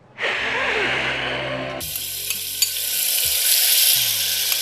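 Minced garlic and onion dropped into hot olive oil in a saucepan burst into a loud, bright sizzle that jumps up sharply partway through and then holds steady and close.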